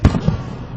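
Fireworks explode close by, a sharp loud bang followed by a second smaller pop and a fading crackling tail, with no voices.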